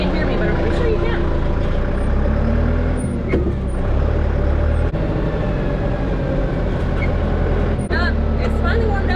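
Old farm tractor fitted with a loader bucket driving across a pasture, its engine a steady, loud, close rumble with occasional clanks throughout.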